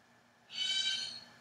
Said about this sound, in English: I just gotta make sure that bird's not in the background